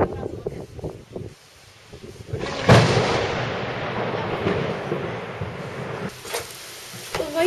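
A loud, close crack of thunder from a nearby lightning strike bursts out and then rumbles on for several seconds, with brief talk before and after it.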